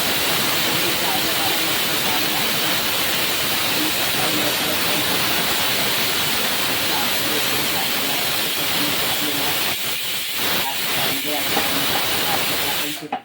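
A loud, continuous steam hiss from a pressure cooker of dal and rice fills the whole stretch, steady and close, with a few brief dips near the end as it eases off.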